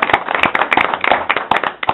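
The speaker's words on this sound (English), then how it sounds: "Now we can clap." Clapping from a small group at a board meeting right after a motion passes, with sharp, irregular claps filling the whole moment, close and fairly loud.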